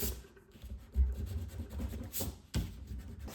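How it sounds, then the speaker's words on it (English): Eraser scrubbing pencil marks off paper while making a fishing log junk journal, close and dry with uneven back-and-forth rubbing strokes and a couple of firmer scuffs, no voices. "now let's erase all my mucky marks"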